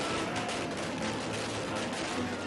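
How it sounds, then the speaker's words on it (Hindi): Firecrackers bursting during a celebration in Nagpur, a dense, continuous crackle of rapid pops filling the whole stretch at steady loudness, with no talk. "नागपुर में जश्न मनाया जा रहा है, पटाखे फूट रहे हैं"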